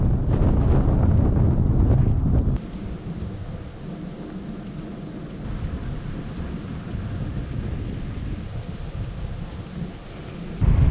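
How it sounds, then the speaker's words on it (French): Strong wind along the Ontario shore of Lake Superior buffets the microphone in heavy gusts, loud at first, then a steadier rushing roar with light ticking. "C'est pas sérieux ce vent."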